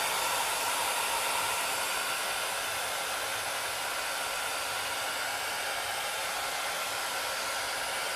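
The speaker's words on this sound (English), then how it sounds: "so let's just get a heat gun." A heat gun blows with a constant, loud rushing hiss of air, unbroken throughout and without any talking.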